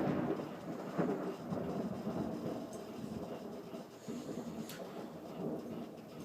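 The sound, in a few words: thunder bangs from a thunderstorm overhead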